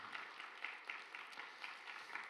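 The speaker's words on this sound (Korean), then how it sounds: "격려의 박수 한번 해주시면 감사하겠습니다" Distant applause from a church congregation at a worship service, steady clapping with light peaks, fairly faint and without speech.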